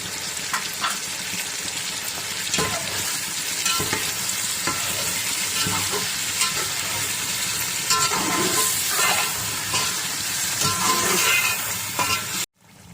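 Chicken sizzles steadily in a pot with a cup of yogurt just stirred in for spicy biryani, with scraping stir strokes over a loud, continuous frying hiss and no talking.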